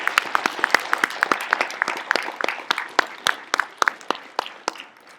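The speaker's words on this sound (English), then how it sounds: "Let's applaud. We all need to applaud" Scattered, fairly sparse clapping from a small audience at a school Veterans Day event, distinct individual claps close by, continuing for a few seconds without voices.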